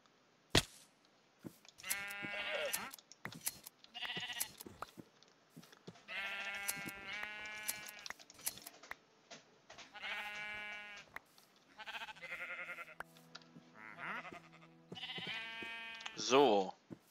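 Minecraft sheep bleating repeatedly in a game, a series of short nasal bleats spread across the stretch with a sharp click near the start, while someone speaks between and over them.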